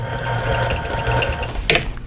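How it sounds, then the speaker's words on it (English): A sewing machine stitches in the ditch along the seams of a quilt, a close, continuous mechanical whir with rapid ticking needle action and a brief sharper clack near the end. "Now I'm going to finish going around stitching in the ditch."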